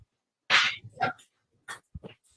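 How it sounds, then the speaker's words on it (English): A dog gives a few sharp barks and short yips, close and loud, separated by silent gaps, with a couple of softer whimpering sounds near the end. "And a dog."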